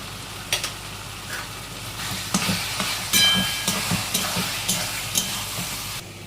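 Onion paste frying in a pan after the water has cooked off, a continuous close sizzle broken by regular scraping and stirring knocks of a spatula.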